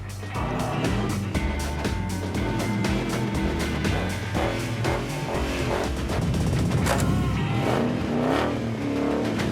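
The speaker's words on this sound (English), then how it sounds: "Cut the muffler off of any car, it sounds cooler." A car engine with its muffler cut off runs loud and raw, revving in uneven bursts with sharp crackling pops, heard continuously and up close with no talk over it.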